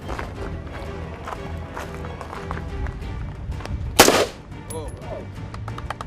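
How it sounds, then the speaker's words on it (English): An M16 rifle fires at an outdoor shooting range: one loud, sharp burst of shots stands out midway over a steady, busy background, then fades quickly. "yes, he's shooting an M16. This happened Thursday at the shooting range"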